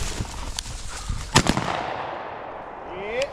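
A gunshot rings out during a bird hunt with dogs in the field: one sharp, loud crack stands out amid fainter outdoor sounds, with another smaller pop and a brief late burst.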